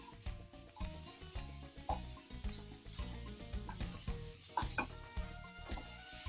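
Mutton browning in a pan for Sindhi teevan gives a steady close sizzle and frying crackle, with a stirring scrape and occasional clinks of utensil against the pan, and a few soft background sounds.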